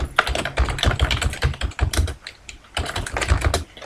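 Rapid, steady clatter of computer keyboard keys being pressed, close and fairly loud, in short bursts with brief pauses and no talk.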